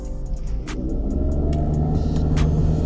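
Suzuki XL7 driving downhill at fairly high speed, a loud, steady engine and road rumble inside the cabin with no talking.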